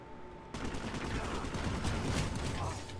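Video game battle gunfire sounds as sustained bursts of automatic fire, loud and dense, starting abruptly after a brief quieter opening and continuing throughout.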